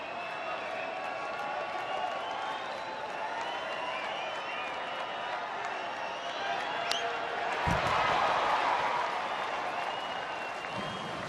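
Baseball stadium crowd applauding on a summer night, sustained clapping and cheering that swells loudest near the end, with a commentator talking over it.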